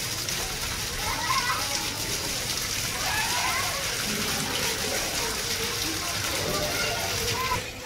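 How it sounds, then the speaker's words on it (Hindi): People bathe and play in heavy rain, with a steady hiss of falling water and splashing all the way through and voices faintly mixed underneath. "बारिश में कभी आप ऐसे नहाए हो?"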